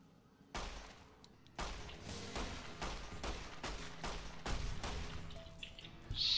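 Rapid bursts of gunfire fired from the hip in a post-apocalyptic video game, a series of loud repeated volleys spaced about a second apart, each with a sharp crack and ringing tail, no talking.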